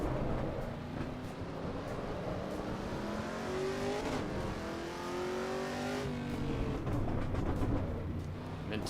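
Camaro race car engine in the Assetto Corsa Evo sim racing game, a steady roar that climbs and falls through gear changes, revving continuously with rising pitch sweeps, loud and close throughout.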